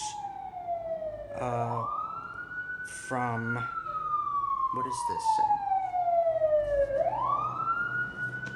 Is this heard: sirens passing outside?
yes